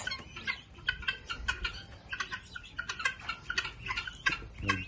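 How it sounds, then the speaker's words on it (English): Busy chorus of guinea fowl calls, many short harsh chattering notes repeating rapidly and overlapping, moderately loud outdoors near Uluru with no speech. "Guinea fowl?"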